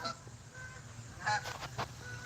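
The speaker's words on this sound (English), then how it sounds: "geese flying overhead" Geese honk in a few brief calls as they fly overhead at dusk near a front porch, faint against steady low background noise.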